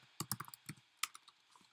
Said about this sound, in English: sorry, my typing always gets weird